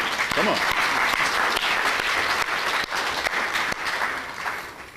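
A lecture audience applauds loudly and continuously, a dense wash of clapping that holds steady before gradually thinning toward the end, with some talk mixed in underneath.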